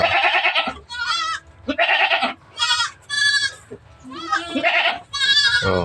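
Goats on a farm bleating repeatedly in a loud, close chorus, with overlapping wavering cries in quick succession and brief pauses between calls.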